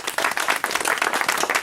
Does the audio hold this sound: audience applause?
yes